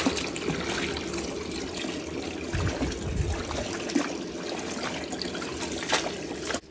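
Water from a tap runs steadily into a kitchen sink while vegetables are washed, a continuous close splashing trickle with small clinks and handling noises, no speech.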